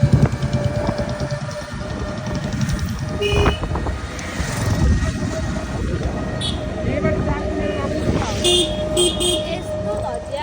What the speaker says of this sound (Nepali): मैले भने नि यहाँ हर्न बजाउनु